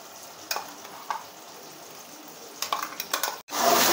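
Onion, tomato, green chili and ginger-garlic paste fry in a pan, a steady sizzle with scattered scrapes and stirring clatters, ending in a loud burst of fresh sizzling as more goes in.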